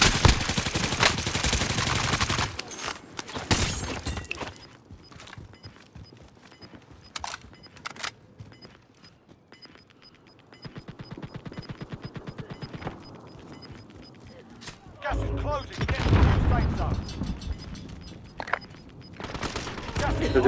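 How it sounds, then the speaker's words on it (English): Bursts of video-game gunfire crackle in rapid volleys, heaviest at the start and again near the end, with scattered single shots and quieter stretches between them. "I got shot."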